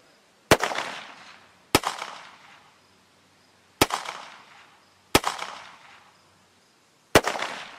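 Five sharp rifle shots at a shooting competition, each a loud, crisp crack followed by a short echoing decay, spaced unevenly one to two seconds apart against near silence.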